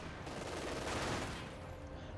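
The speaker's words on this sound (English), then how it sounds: "222s firing there. Heavy autocannon fire raking against the conscript" Autocannon fire from 222 armoured cars in Company of Heroes 2 comes as a dense, rapid rattle of shots, steady and fairly loud across the whole moment with no voice over it.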